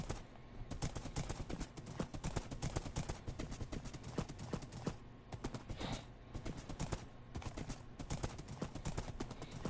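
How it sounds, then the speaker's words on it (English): A fast horse gallops in Minecraft, its hooves clip-clopping in a quick, steady rhythm that runs almost without pause, with a few brief gaps. "I'm taking a moment to just enjoy having found a really fast horse"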